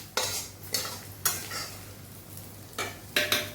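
Onions sizzle in a pan for khichuri while a utensil scrapes and stirs them in about six separate strokes, each a sharp clatter over a steady low frying hiss.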